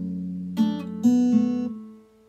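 A few guitar notes picked one after another, ringing sustained tones that overlap and then fade out, played close and alone.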